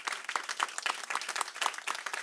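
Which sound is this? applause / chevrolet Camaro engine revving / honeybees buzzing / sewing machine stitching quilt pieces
applause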